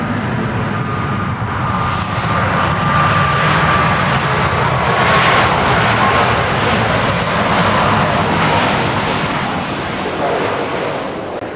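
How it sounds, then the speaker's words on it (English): A jet airplane at Dallas Love Field airport roars loudly and continuously for over ten seconds, a broad engine rumble swelling slightly in the middle as it passes nearby at night. "Dallas Love Field is where we primarily see planes like this."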